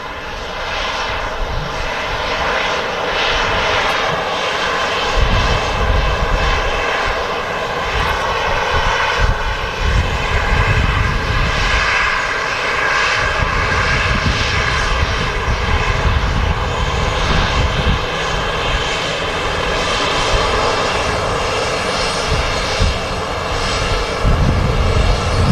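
A Jet2 airliner's engines roar at Manchester Airport, a loud, sustained broadband rumble and whine holding steady throughout, with the low end surging and easing as the aircraft moves.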